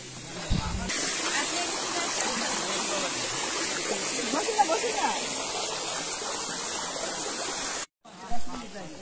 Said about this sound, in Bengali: ছোট ঝর্ণার শব্দ পাচ্ছি